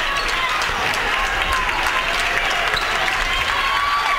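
Mount St. Mary fans clapping in the stands during the closing minute of a girls' 4A area championship basketball game, a loud continuous wash of applause and crowd noise with sharp claps pulsing through it.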